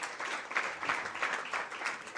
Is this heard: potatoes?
no